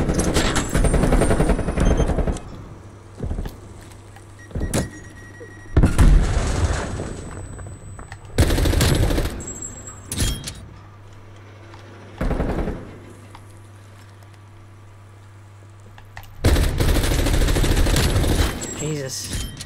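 Bursts of video game gunfire from a shooter featuring Spetsnaz, loud rapid volleys in several clusters separated by short lulls, with a steady electronic hum running underneath.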